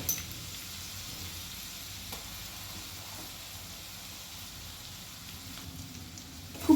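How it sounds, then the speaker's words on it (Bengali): Garlic paste sizzles in a pan of hot oil for a hilsa curry, a faint, even frying hiss held steady throughout with a couple of small clicks at the start and end. "এখন আমি এর মধ্যে দিয়ে দিচ্ছি রসুন বাটা"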